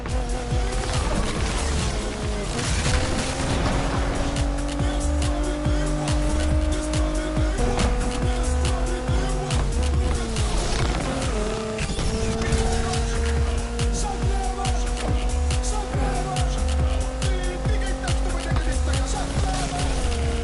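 Police car chase in the Need for Speed video game: engines roar loudly and continuously while tires squeal and skid repeatedly, with sirens wailing through the pursuit.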